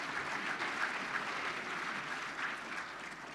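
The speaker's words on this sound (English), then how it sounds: "let's give them a big round of applause today for being here" Audience clapping at an economic forecast panel event, a brief, even round of applause from a seated crowd, heard at moderate to low level from across the room.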